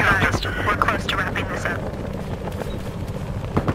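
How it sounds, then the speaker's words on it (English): Helicopter in the video game Battlefield Hardline, a loud continuous rotor and engine roar with choppy pulses that stays close throughout, heard under players' game chatter. "I'll go land on them with the helicopter."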